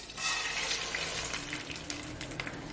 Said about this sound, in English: Now we're going to add a cup and a half of rice.